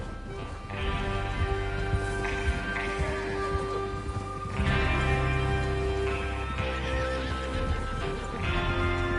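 Horses in Red Dead Redemption 2 whinny repeatedly, several loud neighs rising and falling over a continuous background of hooves and ambient rumble.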